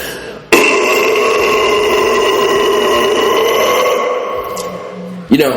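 One long, deep guttural scream bursts in and holds steady and loud for about five seconds, ending with a brief sharp noise.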